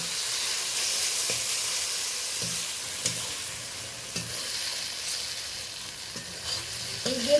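Green chili, grated onion and tomato fry with salt and turmeric in a pan, a steady close sizzle under occasional stirring scrapes and light clinks, with no one talking.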